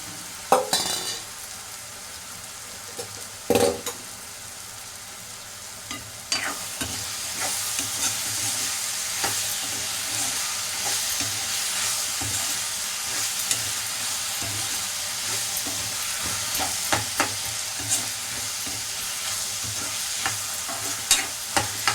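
Chopped bottle gourd drops into a hot pan and fries, a few clattering knocks and scrapes of a stirring spoon giving way to a steady, bright sizzle that continues with occasional clicks.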